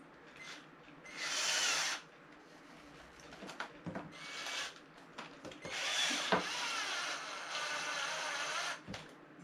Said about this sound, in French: Oui, vas-y avec la perceuse.